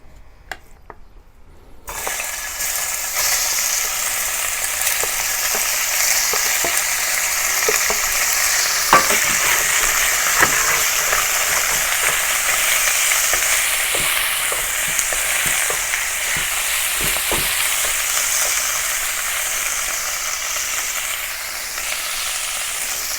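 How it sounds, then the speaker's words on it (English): Beef searing in hot oil in a pan gives a loud, continuous sizzle with occasional crackles and pops, close and steady throughout after a brief quiet start. "now I'm going to add some oil into the pan and then I sear"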